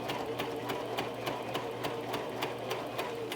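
A sewing machine stitches fabric pads for an Oreck Orbiter floor machine, its needle clattering in a fast, even rhythm close by, with a low motor hum underneath and no talk.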